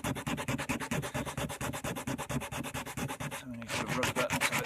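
Oak timber rubbed by hand with rough-grade sandpaper, a fast, regular back-and-forth rasping scratch repeated about four times a second, close and fairly loud, with no talk.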